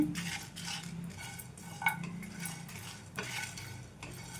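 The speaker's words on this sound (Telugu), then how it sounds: "మనకైతే ధనియాలు, ఎండుమిర్చి ఇవన్నీ కూడా మంచిగా వేగాయండి" Coriander seeds and dried red chillies are dry-roasted in a pan and stirred, making soft, close scraping and rustling with light clinks from the utensil, quiet and continuous.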